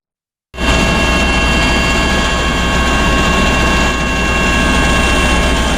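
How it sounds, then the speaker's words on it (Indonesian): A search and rescue helicopter flies over the Bali Strait during the hunt for victims of a sunken ferry, its loud, steady engine and rotor roar starting abruptly and holding constant throughout. "Tim gabungan Basarnas melakukan pemantauan udara menggunakan helikopter di atas perairan Selat Bali bagian utara dan selatan"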